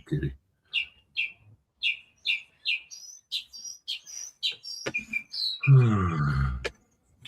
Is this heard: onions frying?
no